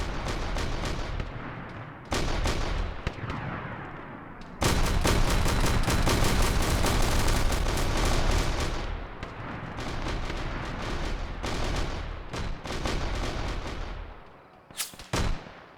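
Heavy video game gunfire during an Elysian Drop Trooper recon match, sustained automatic volleys and booming blasts in long loud stretches with brief pauses, close and unaccompanied by talk.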